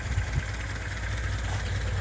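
A car engine idling while it warms up, giving a steady low rumble with a continuous mechanical drone and no voices.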